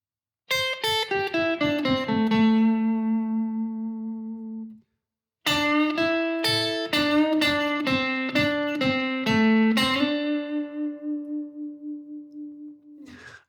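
Slow blues guitar lick in A on a clean electric tone: a run of picked single notes settles onto a sustained low note, then a second phrase of plucked notes and bends ends on a long ringing tone, played alone and fairly close.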